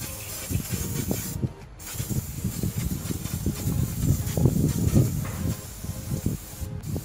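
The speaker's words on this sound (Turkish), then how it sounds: "Balata sprey tarzında bir sprey dostlar." Würth engine cleaner sprayed onto a dirty car engine, a continuous close hiss in a few long bursts with short pauses, no talk over it.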